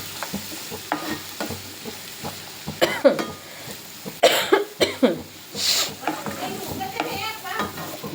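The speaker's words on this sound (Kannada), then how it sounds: "ಲೈಟ್ ಎಣ್ಣೆ ಹಾಕಿ ಇದು ಟಮಾಟ ಮೆಣಸಿನ್ಕಾಯಿ ಮತ್ತು ಉಳ್ಳಾಗಡ್ಡಿ ಎರಡು ಮೂರು ನಿಮಿಷ ಫ್ರೈ ಮಾಡ್ಕೊರಿ ಈ ಥರ" Tomato, green chili and onion fry in a little oil, a low sizzle broken by spatula stirring and pan clatter, while voices talk and someone coughs nearby.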